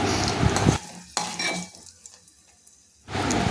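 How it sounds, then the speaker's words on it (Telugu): Gongura leaves frying in a bowl. A brief sizzle with stirring and utensil scrapes breaks off into near quiet, then returns loudly at the end. "అదే బౌల్లో గోంగూర వేయించుకోవాలి"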